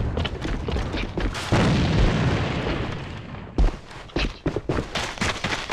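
Two grenades detonating in a tactical shooter game, a heavy rumbling blast that swells and decays over a couple of seconds, followed by sharper scattered bangs and debris impacts, loud and close.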